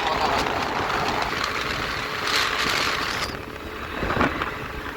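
Yamaha Aerox scooter engine running steadily in a roadside repair setting after a crash repair, a continuous buzzing drone with slight revving swells, with someone talking over it.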